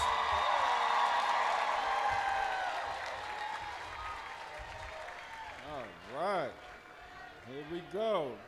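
Applause for a graduating class at a college commencement, a broad wash of crowd clapping that fades over several seconds, with an amplified voice and echoing reverberant tones over it.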